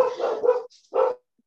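Dogs barking indoors at home, two loud close barks with a brief gap between them, no voices present.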